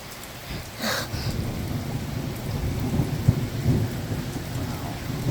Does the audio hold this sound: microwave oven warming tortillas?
no